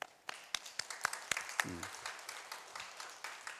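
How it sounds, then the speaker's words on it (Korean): Faint, sparse clapping from a church congregation during a Sunday service, a few distinct claps at first that thin into soft scattered patter. "우리 박수로 한번 쳐야 되겠습니다."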